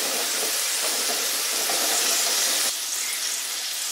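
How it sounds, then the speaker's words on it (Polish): Sausage sizzling in a frying pan while being browned for Polish żurek soup, a steady broadband hiss and crackle throughout, loud and close, with a slight drop in intensity near the end. "I jeszcze razem smażymy, aż kiełbaska się"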